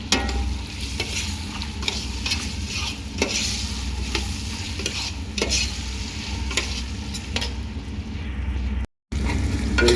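Chicken khichuri with cubed tomatoes and potatoes sizzles steadily in a pan while a spoon scrapes and stirs it in repeated strokes, loud and close, with one brief dropout near the end.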